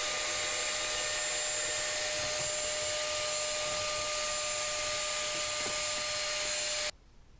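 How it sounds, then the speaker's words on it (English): A vacuum sucks standing water out of a Whirlpool dishwasher that is not pumping out, a loud steady whining roar with a constant high pitch that runs unbroken for about seven seconds, then cuts off abruptly. "That's why I'm using the vacuum."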